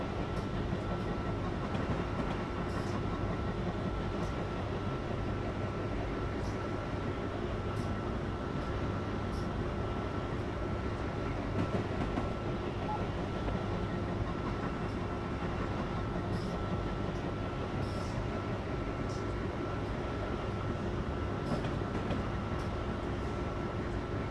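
Passenger train from Train Simulator 2017 running on the Northeast Corridor between New York and Philadelphia: a steady, dense rumble of wheels on rails with a faint hum, continuous and even throughout, no talking.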